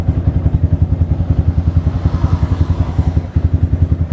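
A motorcycle fitted with a Yoshimura aftermarket exhaust idles up close, its engine thumping in a fast, even pulse that stays loud and steady throughout with a slight stumble near the end.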